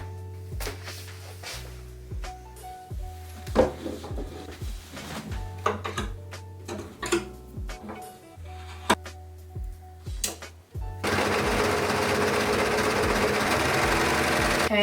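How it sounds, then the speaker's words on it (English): An overlocker (serger) runs along cream white corduroy edges in stop-start bursts with a low mechanical whir and clunks, then a sustained louder run near the end. "I need to go ahead and overlock all the edges"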